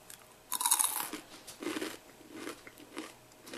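Someone bites into a crunchy dried blueberry snack, a loud crisp crunch followed by several softer chewing crunches in an uneven rhythm, close and with no talk.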